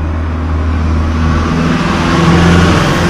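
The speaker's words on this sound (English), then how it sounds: "let this car pass, is very noisy" A noisy car drives past up close on a mountain town street in Sandanski, Bulgaria, its engine a loud, steady rumble that swells slightly as it goes by.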